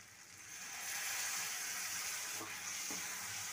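Water poured into ground cumin, chili and coriander frying in a pan for egg curry, a steady broadband sizzle swelling after the splash and holding loud, with a couple of faint clinks near the end.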